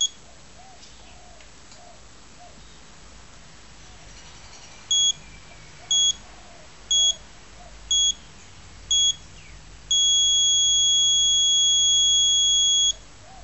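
A Sanwa MT4 radio transmitter's timer sounds five evenly spaced short beeps one second apart, then a steady continuous tone lasting about three seconds, clear and close over a quiet background hiss.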